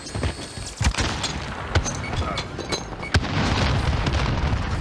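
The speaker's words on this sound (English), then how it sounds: "Man, I wasted my nade!" A grenade goes off in a shooter video game, heard as a few sharp booming bursts amid steady layered battle noise and distant blasts, with no talk.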